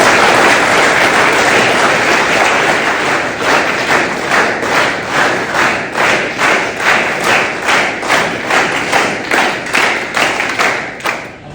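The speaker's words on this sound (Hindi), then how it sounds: "आपकी तालियों की गड़गड़ाहट कम नहीं होनी चाहिए" A crowd at a hapkido and karate training club in Bahadurgarh claps loudly, first as a dense wash of applause, then settling into rhythmic, unison claps.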